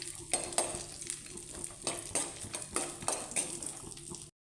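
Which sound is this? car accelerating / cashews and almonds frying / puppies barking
cashews and almonds frying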